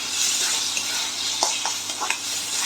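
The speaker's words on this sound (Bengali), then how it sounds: "দিয়ে এটা আবারও ভালো করে নাড়াচাড়া করতে হবে, একদম পুরো ঝুরঝুরে টাইপের হয়ে যাবে।" Chicken keema mince with coriander leaves is stirred in a hot pan, steady loud sizzling with a few soft scraping strokes of the spoon mixing through it.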